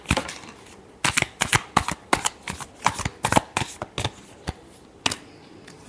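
Tarot cards being shuffled by hand in a rapid series of crisp riffling slaps and flicks, close and fairly loud, with brief pauses between bursts and no talking.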